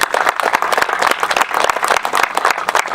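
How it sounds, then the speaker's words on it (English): Audience applause at a manufacturing facility groundbreaking for Empire Comfort Systems, steady loud clapping from many people close by, continuous for the whole stretch. "So, hey, that's a place to applause right there."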